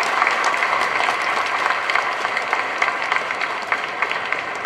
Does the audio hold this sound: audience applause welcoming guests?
yes